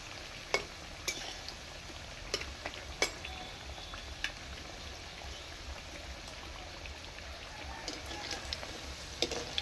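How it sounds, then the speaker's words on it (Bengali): Palm fruit jalebi fries and puffs in hot oil, a faint, even bubbling sizzle broken by sharp scattered pops and crackles. "কি সুন্দর লাল লাল করে ভেজে, আর ফুলেও যাচ্ছে কি সুন্দর কুকুয়া হয়ে।"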